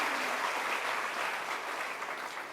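Sustained applause from a congregation during a daily Jain sermon in Ratlam, a soft, even wash of clapping heard from a distance, fairly faint and without distinct individual claps.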